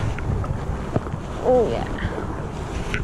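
Wind buffets the microphone while kayaking on the River Wye, a steady rushing roar with lapping water, as people talk briefly over it.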